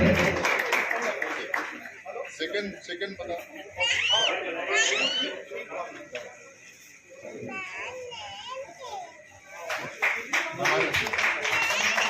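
An audience claps at a district-level Tulsi Jayanti ceremony in Kanker, bursts of applause at the start and end mixed with children's voices and chatter.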